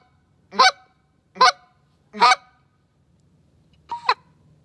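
A short-reed goose call is blown in four sharp, high-pitched honks, loud and close. Three come in quick succession, then a slightly softer one follows after a pause, against a quiet background.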